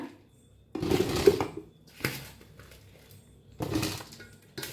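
Lemon chili pickle being scooped into a container, heard as three rough bursts of scraping and clinking against the vessel, separated by quiet gaps, close and moderately faint.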